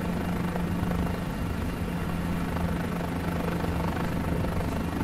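A Guimbal G2 helicopter in Microsoft Flight Simulator 2020 runs with its throttle at idle, giving a steady low engine and rotor drone that stays constant and moderately loud with no talk.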